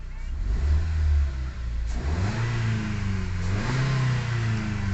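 Automatic Ford EcoSport engine, troubled by stalling and an oxygen sensor fault, idles close by and then revs up twice in rising, falling sweeps, loud and steady with no talking.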